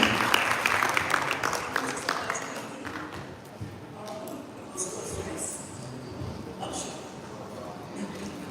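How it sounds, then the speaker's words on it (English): Scattered applause from a live-event audience, loudest at the start and thinning to patchy claps, with background voices and chatter mixed in throughout. "Please give her a round of applause"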